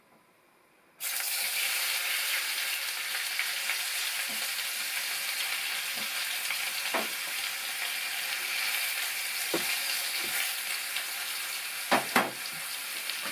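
Food sizzling loudly in hot oil on a stove in an off-grid log cabin, starting abruptly after a second of quiet and holding a steady broadband hiss with occasional pops and crackles, no voices.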